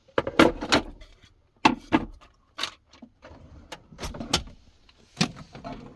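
A deep cutlery drawer in a self-built campervan kitchen slides open and shut, giving several close, sharp clunks and rattles spread through the clip with short pauses between them.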